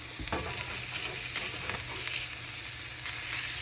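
Meat fries in a pan with a steady bright sizzle and crackle, occasional spitting pops and a faint clink or stir, fairly close and with no talking.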